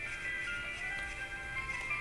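A mobile phone rings with a steady, bright electronic tone sustained throughout, heard fairly close over a faint low rumble, with no talking.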